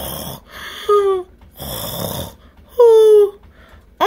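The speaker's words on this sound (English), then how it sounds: "on a snoring granny" A grandmother snores in bed, loud rasping breaths in a slow repeating rhythm, each long inhale ending in a nasal whine, close and alone.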